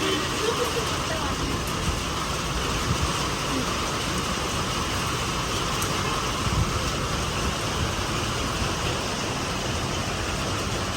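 Rain begins falling in Kadapa as a continuous even hiss from start to finish, with a faint low rumble underneath.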